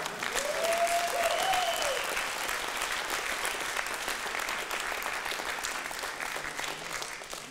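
A conference audience at a Wikipedia gathering claps in a sustained, dense round of applause that starts strong and slowly tapers off, with a brief whistle or cheer early on.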